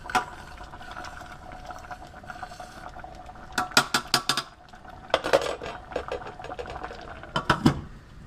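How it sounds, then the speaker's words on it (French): A spoon scraping and clinking against a saucepan while stirring tomato sauce, in short loud bursts over a quiet simmer. "Je vais remuer. Pour ne pas que ça colle au fond de la casserole."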